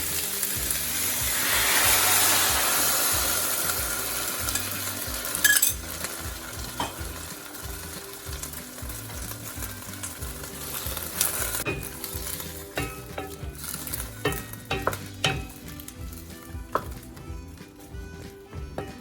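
Sweet and sour sauce thickened with cornstarch simmers in a pan, a soft steady sizzle and bubbling with occasional scrapes and clinks of a utensil stirring, no voices present.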